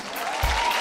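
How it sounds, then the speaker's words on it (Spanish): A short burst of applause from a TV studio audience, a dense wash of clapping heard briefly. "Un aplauso para ellos."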